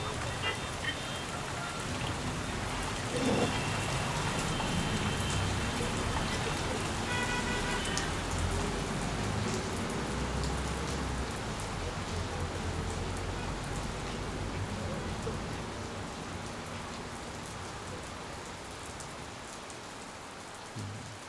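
Steady rain pattering on surfaces, a dense continuous hiss with scattered drops, holding even throughout before easing slightly at the end.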